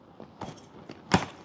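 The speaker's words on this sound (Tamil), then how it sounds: "கொடுமா அந்த சாவியை கொஞ்சம் கொடுமா" A bunch of keys jangles in a few quick metallic shakes, ending in one louder close rattle, with no voices.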